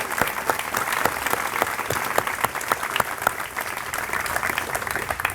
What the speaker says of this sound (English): Can we give Mr. Williams from our Performing Arts Department and Ms. Cross from our advancement team a big round of applause?